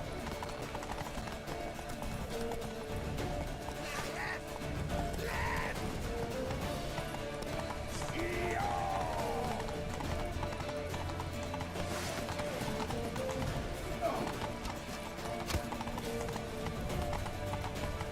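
Horse hooves clip-clop rhythmically in The Witcher 3 as riders hurry toward a temple, a steady trotting beat running throughout with occasional whinnies and faint background voices.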